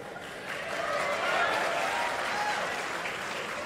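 Steady clapping from a seated audience at a spiritual talk in Kurnool, a dense wash of many hands that swells after half a second and holds at an even, moderate level with no voices on top.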